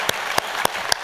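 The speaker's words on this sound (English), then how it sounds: "So let's give a round of applause for Rick and Brunner" An audience at a 2017 creative industries awards ceremony applauds with a dense wash of clapping. A few louder claps stand out close by at regular intervals.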